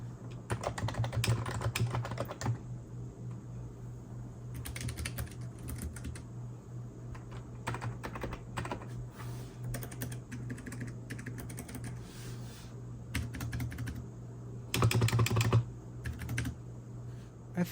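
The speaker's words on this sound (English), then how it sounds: "this keyboard doesn't generate as much noise as Keychron K2 Aluminum, another brown switch keyboard" Typing on a compact portable keyboard with brown switches, a Keychron or NuPhy model, comes in bursts of quick, soft clacks separated by quiet pauses, close and fairly muted, over a faint steady hum.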